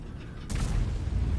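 A tank gun fires in World of Tanks with a single muffled boom, followed by a low rumbling tail that hangs under the steady game ambience.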